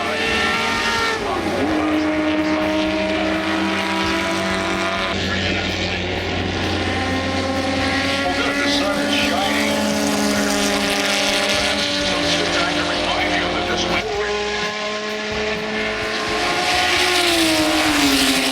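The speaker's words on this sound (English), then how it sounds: "a Ferrari 250 GTO racing full throttle around the track. And hearing that V12 come to life" A Ferrari 250 GTO with a vintage V12 races full throttle around a track during Monterey Car Week, a loud sustained engine howl with shifting pitch that holds for the whole stretch, with crowd noise beneath.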